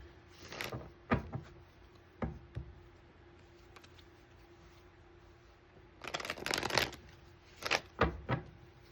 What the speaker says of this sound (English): So we'll go ahead and pull a few tarot cards here.